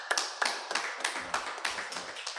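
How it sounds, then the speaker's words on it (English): Several people applaud at a public press engagement event, a modest run of sharp, fairly even claps that rises and fades over a couple of seconds. "Another round of applause."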